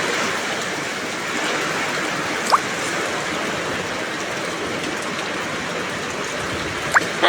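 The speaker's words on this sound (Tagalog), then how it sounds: "baka hanggang bukas pa yung ulan ito" Heavy typhoon rain pours steadily in a flooding area, a loud unbroken hiss of falling water with a couple of brief knocks or drips standing out near the end.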